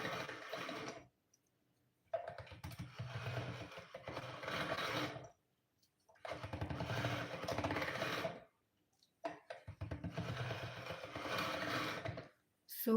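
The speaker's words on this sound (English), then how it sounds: "I am running the rest of the clay through my pasta machine" Polymer clay fed through a hand-cranked pasta machine, giving three bursts of mechanical cranking and rattling with short silent gaps between passes, fairly close and moderately quiet.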